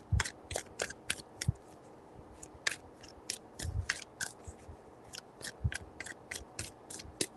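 Tarot cards are shuffled in repeated crisp riffling bursts and flicks, close and fairly quiet, with no talking over them.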